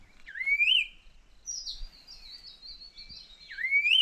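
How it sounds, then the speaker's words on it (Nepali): A bird singing in a tree in green Darjeeling hills, clear close whistled phrases with rising and falling sweeps and a long warbling trill between them, alone in quiet surroundings. "चरा कराएको के मिठो चरा कराएको"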